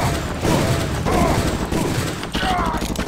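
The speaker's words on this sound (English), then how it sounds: "I'm shooting him several times and not dying" Rapid gunfire from shooting an enemy in the Deus Ex video game, several dense shots rattling continuously at close range with a voice talking over them.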